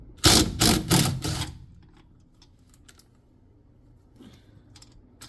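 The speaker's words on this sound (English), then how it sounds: "to take off this rotor, we need a 17mm socket and then just take it off" A 17mm socket on a ratchet clicks through a few loud, rapid bursts as it loosens the rotor nut on a noisy Samsung washer motor, then the work goes quiet with only faint scattered clinks and handling sounds.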